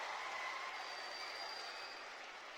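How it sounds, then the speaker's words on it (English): A crowd at a live youth tour event in the Louisville Palace applauds. Soft, distant and steady, the clapping slowly fades. "Now I want everyone else to applaud for those people who are going to college."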